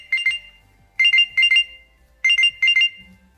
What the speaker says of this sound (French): elle va chercher la montre et vous allez voir que ça va faire un petit bruit